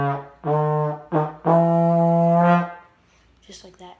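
A solo trombone plays a phrase of the Fight Song with each note repeated twice, short tongued pairs leading into a long held note, close and clear, with a faint noise afterward.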